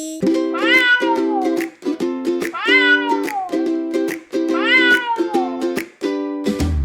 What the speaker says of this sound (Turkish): Kedi kedi miyav, kedi kedi miyav.